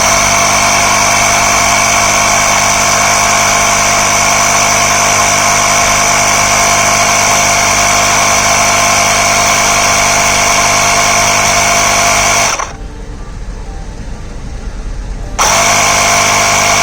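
Portable tire inflator pumping up a 2019 Honda CB500X motorcycle tire, a steady loud electric motor drone with a constant pitch that cuts out suddenly near the end and then starts again.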